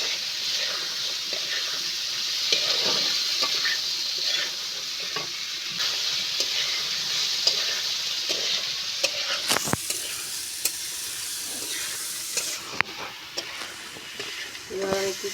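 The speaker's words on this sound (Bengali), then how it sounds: "এবার আমি ছোলাটা দিয়ে দেবো। ভালোভাবে এইভাবে আমি কষিয়ে নেব।" Chickpeas sauté in a hot pan for a vegetarian banana flower curry, a steady loud sizzle with scraping stir strokes and a few sharp clatters near the end.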